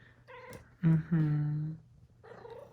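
A house cat gives a series of meows, two loud drawn-out cries in the middle framed by softer calls, close by and alone with no talking.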